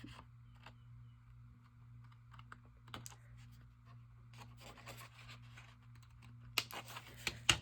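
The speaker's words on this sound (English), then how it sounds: "I'll just trim these little pieces here." Small paper pieces being trimmed for a handmade card: soft scratchy cuts and rubs scattered through, quiet and close, over a steady low hum, with a sharper burst of snips near the end.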